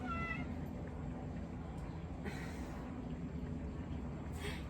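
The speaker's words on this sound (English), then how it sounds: "cats, gotta love them" A pet cat named Midnight meows faintly in a home kitchen, a short high meow at the start and soft calls later, over a quiet room hum.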